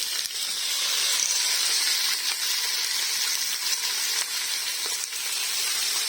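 Steady, loud sizzling and hissing from skin-on chicken chops searing in a hot pot over high heat, continuous throughout with no talking.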